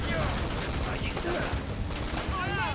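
Gunfire bursts in the video game Uncharted: Drake's Fortune, dense and steady throughout with a busy game soundscape and no voices in between.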